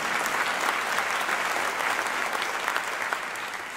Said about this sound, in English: yeah, that's a round of applause